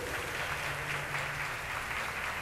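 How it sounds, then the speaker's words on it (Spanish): Audience applause for a performer at a Spanish-language artists' event, steady dense clapping that holds at an even level throughout, with no voices over it. "Un aplauso para Amarilis"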